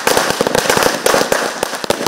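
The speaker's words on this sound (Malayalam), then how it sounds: "സർവകലാശാലയിലും വി സിയുടെ വീട്ടിലും കെ എസ് യു പടക്കം പൊട്ടിച്ചു." Firecrackers set off at a university celebration: a dense, loud run of sharp cracks and pops going off in rapid, irregular succession, close by, with no talk.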